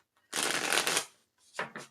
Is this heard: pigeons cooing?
no